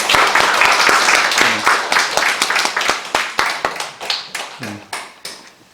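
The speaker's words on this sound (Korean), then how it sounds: "우리 박수로 한번 크게 환영하겠습니다." A church congregation at a Sunday worship service claps in welcome, loud sharp hand claps in a quick rhythm that gradually thin out and slow down, with a voice briefly heard among them.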